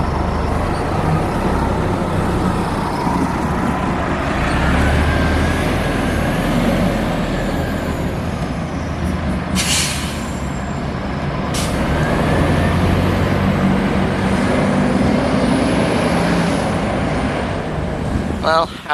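Continuous loud rumble of an Orion V transit bus on the move, engine and road noise steady throughout, with two short hissing bursts like air releases partway through and a sharp rattle near the end.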